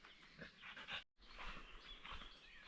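Dog out on a woodland walk near a Welsh reservoir, panting and snuffling close by in quick irregular breaths, with a brief dropout partway through.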